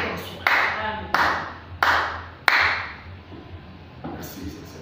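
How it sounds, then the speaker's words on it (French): Clapping during a church service: four loud, sharp claps at a steady pace, each ringing out in the hall, followed by softer scattered claps, with voices faintly present underneath. "Des acclamations."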